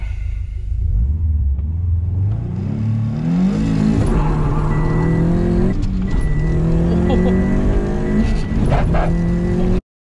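A modified 320-horsepower turbocharged Subaru WRX with a short shifter revs up and accelerates hard from a standstill in a launch test, rising in pitch through the gears, loud and close, with a voice briefly audible.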